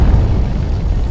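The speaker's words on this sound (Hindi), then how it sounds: "एक जापानी सैन्य विमान उड़ान भरता है। कुछ ही मिनटों बाद तेज धमाका" A Japanese military plane explodes shortly after takeoff from Taihoku airport in Taiwan in 1945, a loud, deep, rumbling boom that fills the whole moment with heavy low roar, with no voices over it.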